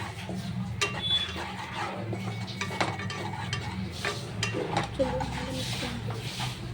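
Chickpea flour batter stirred steadily in a pan to keep lumps from forming for thiruppagam, a continuous scraping and stirring with light clinks of the utensil and a faint background hum.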